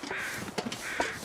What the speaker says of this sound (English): I do sort of wish the crows would eventually go away.